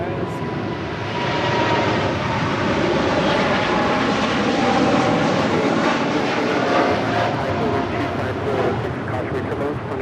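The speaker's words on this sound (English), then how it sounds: "That is Cargo LAX 43 X-ray departing to Luxembourg on a 747-8 freighter" Boeing 747-8 freighter departing Los Angeles International Airport for Luxembourg, a powerful jet roar that swells after the first second and stays loud and rumbling, with a faint voice underneath.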